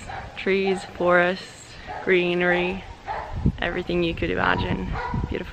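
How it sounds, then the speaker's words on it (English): Dog barking outdoors in a lakeside forest setting, several loud near barks and yips mixed in with a person talking close by. "Sorry about that dog."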